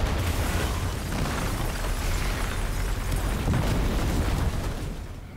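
A cinematic rocket-propelled grenade explosion collapses an apartment building: one loud, sustained roaring rumble of blast and falling debris runs for about five seconds before tapering off at the end, with no voices.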